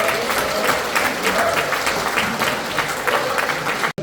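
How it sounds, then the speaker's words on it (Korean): Loud, dense applause fills a meeting room in the National Assembly members' hall at an anniversary ceremony, honoring a member of parliament; the clapping runs continuously and evenly, ending abruptly. "거기에 수장 우리 백종원 국회의원님께 다시 한번 큰 박수 부탁드리겠습니다."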